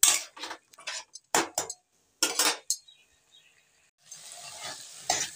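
A spoon scrapes and stirs through vegetarian kundru dorma masala in a pan, the strokes coming in irregular bursts over a steady close sizzle, with a brief pause and then a longer stretch of frying hiss near the end.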